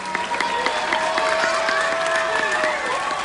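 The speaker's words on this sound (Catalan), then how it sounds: "Per tant, també un fort aplaudiment per ells." School audience applauding at a schoolyard music day, steady clapping mixed with crowd noise and a few sustained tones from children's voices or instruments, close and continuous throughout.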